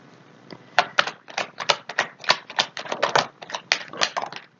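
Playing cards shuffled for a card reading, a quick run of crisp riffling flicks in irregular bursts, close and fairly quiet with no talking.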